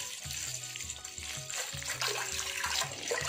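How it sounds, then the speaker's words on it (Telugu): Full cream milk being poured into a cooking pot for bottle gourd kheer, a soft, trickling liquid splash close by, with faint rhythmic background thumps. "సో ఒక పాత్ర పెట్టి అందులో 1 లీటర్ మిల్క్ వేస్తున్నాను"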